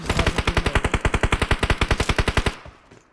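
A rapid automatic burst of gunfire in PUBG Mobile, about two dozen close, evenly spaced loud shots in a steady rhythm that stops abruptly, leaving a short quiet tail.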